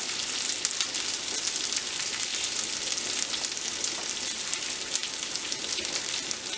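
Pierogies go into an 8-liter pot of water kept at a rolling boil, which gives a constant, fairly quiet bubbling hiss with no distinct splashes.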